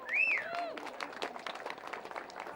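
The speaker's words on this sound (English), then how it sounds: "I think a big round of applause is due for Marie." A crowd at a St. Patrick's Day parade gives a soft round of applause, steady and somewhat distant, with a whistle-like tone at the start.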